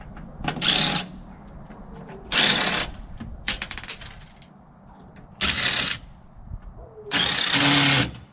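A power drill whirs in short repeated bursts while backing screws out of a Dell computer tower, close and loud, with clicks and handling noises between the runs.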